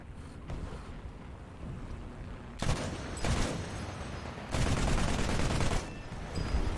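Gunfire in a tank battle video game, coming as broad, heavy bursts of rumbling shots against a windy, rushing background, loud and repeated without speech.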